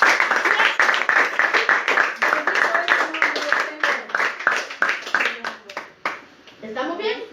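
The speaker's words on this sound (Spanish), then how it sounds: "otro aplauso también" A church congregation claps in a rhythmic, uneven pattern during a service, distinct hand claps fairly close, with voices talking over and between the claps.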